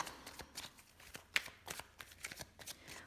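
Lenormand cards being cut and shuffled, a run of dry papery flicks and riffles close by with one sharper snap midway, no voice heard.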